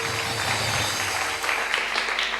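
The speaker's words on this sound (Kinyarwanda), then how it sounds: "Mukomere Imana amashyi menshi cyane." A church congregation claps and cheers in praise, producing a loud, dense burst of applause that carries on without a break through the whole moment.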